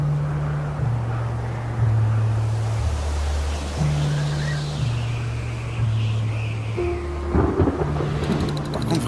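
Steady heavy rain pours through a storm on the sixth day of a wilderness survival contest, with deep thunder-like rumbling and a low droning tone running beneath the continuous hiss.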